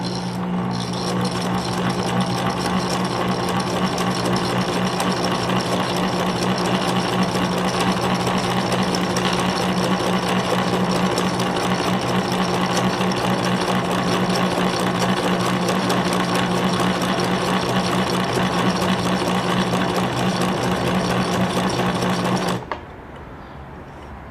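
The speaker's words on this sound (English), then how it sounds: "now that it's started winding, I can run it." A Fashion Touch 1036 sewing machine runs its in-place bobbin winding with a steady, loud mechanical whir and rattle for about twenty-two seconds, then stops abruptly, leaving a low hum.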